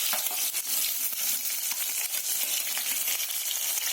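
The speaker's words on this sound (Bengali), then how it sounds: "ভালো করে মশলাটাকে কষিয়ে নেবো" Ground coriander, cumin and ginger paste frying in hot oil makes a dense, steady, close crackling sizzle with faint stirring throughout, no talk.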